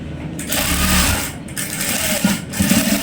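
An electric sewing machine stitching a straight pant, a loud, close, rapid mechanical whirring in three bursts separated by brief pauses, with no talking.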